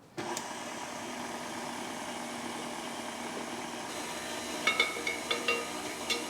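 An electric stand mixer runs steadily at low speed, beating cake batter for a plum cake as flour is added, a continuous motor hum with a few light clinks and taps near the end.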